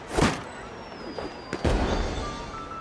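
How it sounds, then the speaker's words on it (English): Toy firework launchers go off at a festival in the video game Genshin Impact, with a sharp pop and crackle near the start and another burst midway, followed by a fading whistle and fizz, while a voice speaks briefly. "they're toys that shoot fireworks"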